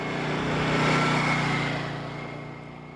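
A Yamaha XV535 Virago V-twin motorcycle engine hums steadily, swelling slightly and then easing off over a few seconds, heard from close by with no talk.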